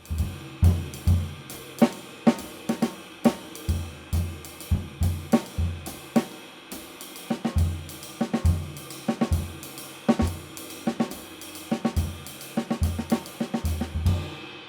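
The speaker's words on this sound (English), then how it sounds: "I start conversating with the snare and the bass drum." Snare hits and bass drum kicks on a drum kit trade back and forth in a steady, syncopated swing groove, played alone and fairly close.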